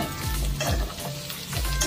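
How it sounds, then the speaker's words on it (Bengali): Potato and paneer with slit green chillies stir-fried in a pan, a loud, steady sizzle of hot oil with repeated scraping strokes of a spatula about every half second. "সব ভালো করে কষিয়ে নিচ্ছি।"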